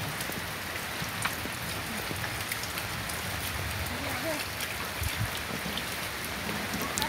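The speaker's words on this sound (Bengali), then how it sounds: "অনেক বৃষ্টি হয়েছে।" Rain falls steadily on a flooded village courtyard after a storm, a dense patter of drops with occasional louder splashes and faint voices in the background.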